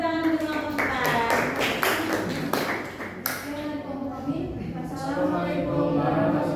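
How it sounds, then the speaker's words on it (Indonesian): A classroom audience claps for a student group after its presentation. Brief, patchy claps come early and fade under a teacher's voice, which continues over the room. "Kita tepuk tangan untuk kelompok 4."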